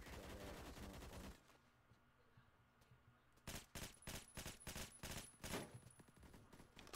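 Gunfire in the online shooter Phantom Forces: a rapid burst up front, a quiet gap, then a string of loud, close, fairly evenly spaced shots that carry on to the end.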